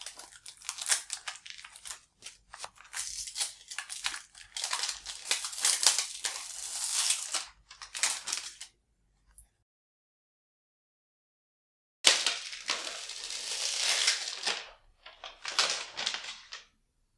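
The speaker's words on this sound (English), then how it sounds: "get this battery out and peel the plastic off" Protective plastic film is peeled off a Samsung Galaxy Note 4 battery, making close, crisp crackling and tearing in several bursts. A silent pause comes before a final round of peeling.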